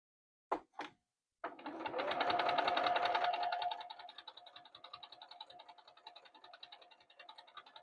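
A sewing machine stitches a quilt-as-you-go square-in-a-square block, starting after two brief clicks with a dense, steady run of rapid stitching that eases into a lighter, quieter patter toward the end.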